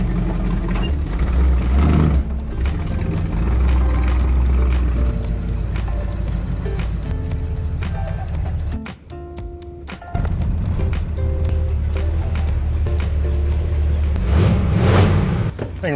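An old truck engine runs steadily and loud, with a brief drop near the middle before it picks back up, suggesting revving; no talk is heard over it.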